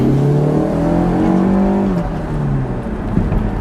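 A turbocharged Chrysler PT Cruiser Turbo convertible engine revs up under acceleration, a loud steady drone with rising harmonics that climb for about two seconds, then drop and climb again, with no talking.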